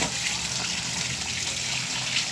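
Running tap water steadily splashing over dropped chicken pieces being rinsed, a close continuous hiss with no talk.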